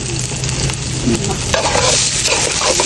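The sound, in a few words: rice frying with onions for pulao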